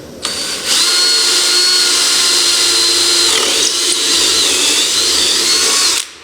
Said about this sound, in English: So I'm going to ream it out a little bit, make it big enough for my blade.